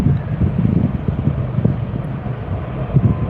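A Jetstar airliner takes off at an airport, a steady low rumbling roar at a distance mixed with wind buffeting on the microphone.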